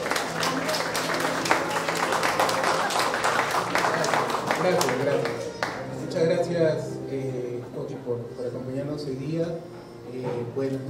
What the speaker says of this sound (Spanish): El aplauso para don Pedro Soto